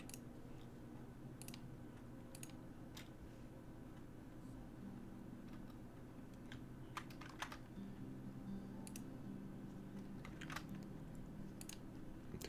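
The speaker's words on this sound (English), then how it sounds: "I was clicking the actual box." Computer clicking during a co-op game session: faint, scattered sharp clicks, some in quick pairs or bursts, spread across a quiet room-tone background with no talk.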